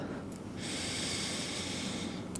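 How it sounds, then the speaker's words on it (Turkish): A single deep breath drawn in slowly and steadily through the nose during a morning yoga routine, close and alone, lasting a couple of seconds. "Derin nefes al."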